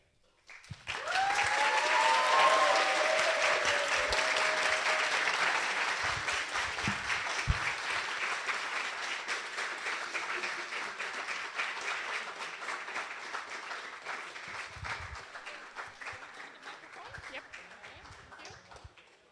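A crowd applauds after a student's business plan presentation at a live finals event, sustained clapping that rises quickly, stays full and then gradually thins over about twenty seconds, with a few voices and cheers mixed in early.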